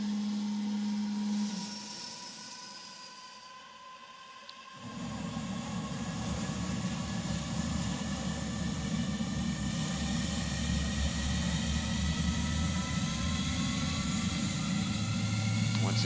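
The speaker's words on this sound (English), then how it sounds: "This is a loud plane." An F-15 jet in Microsoft Flight Simulator 2020 starts up: a thin whine with low hum gives way, after a few seconds, to a loud, steady engine roar that holds throughout.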